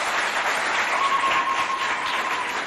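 An audience at a school event in Doba, Logone Oriental province, applauds a provincial education delegate, a dense steady wash of clapping throughout.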